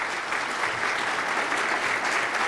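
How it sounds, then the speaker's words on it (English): An audience at Glendale's 2012 State of the City Address breaks into a big, sustained round of applause, steady dense clapping filling the hall with no pauses from start to finish. "Glendale Arts, you're getting the biggest round of applause"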